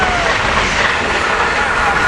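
An ACS-64 electric locomotive, number 633, passes close by leading a regional train, giving a continuous loud rushing rumble of wheels and motion.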